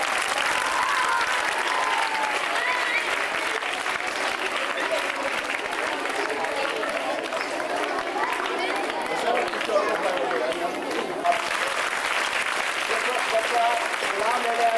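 Sustained applause from a school audience honoring a student whose name has just been announced, a dense steady wash of clapping lasting throughout at close range, with faint crowd murmur underneath.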